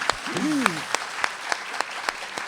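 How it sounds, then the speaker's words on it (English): An audience applauds after a book reading at an afternoon event with a novelist, with a burst of steady clapping and some sharper individual claps, while a voice speaks briefly over the start. "I'll accept the applause on behalf of Chris."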